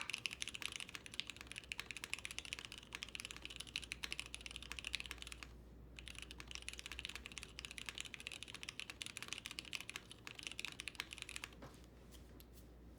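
Fast, steady clacking of keys on a freshly built Kibou Suisei mechanical keyboard, continuous close typing with one brief pause midway, alone without talk.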